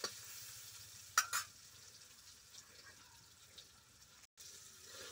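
Taro pieces frying in hot oil in a pan, a faint, steady sizzle with a couple of sharp metallic clinks as the pieces are lifted out, alone with no talking.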